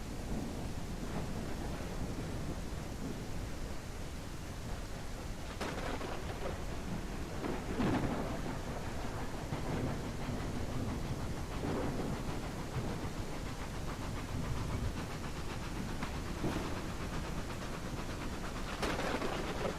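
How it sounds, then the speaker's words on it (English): Thunderstorm in the Railroads Online train game: steady heavy rain hiss with several rolling thunder rumbles spaced through it, moderately quiet and with no talk. "this is a gnarly thunderstorm"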